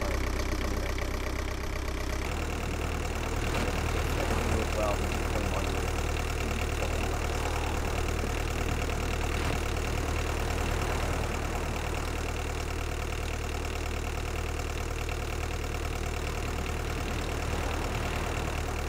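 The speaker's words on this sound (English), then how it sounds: "you gotta wait a few seconds till it starts up" A boat engine in the Roblox game Isle starting up and settling into a steady idle, a continuous loud mid-low mechanical drone with a slight shift early on, unbroken for the whole stretch.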